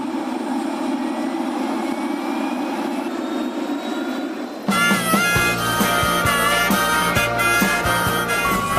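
Helicopter in flight over a large dairy farm: a steady, loud engine and rotor drone that continues throughout with no speech.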